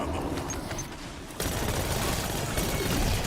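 Rapid gunfire in the Black Ops 6 zombies game, a dense burst of shots that swells louder about halfway through and keeps going steadily to the end, with no talk over it.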